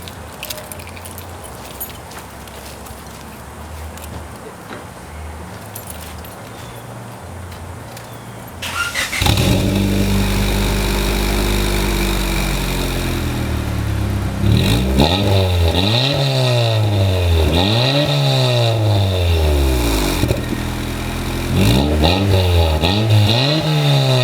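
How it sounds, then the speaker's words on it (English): A Honda Civic with a turbocharged D16 engine and an installed exhaust silencer fires up after a quiet pause, settling into a loud idle, then revs repeatedly in rising and falling sweeps, close up with no talking. "here comes the first startup. This is with the silencer installed"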